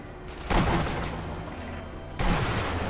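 Sniper rifle shots in the video game Sniper Elite V2: two loud, close booming reports about two seconds apart, each followed by a sustained rumbling tail over steady game background noise.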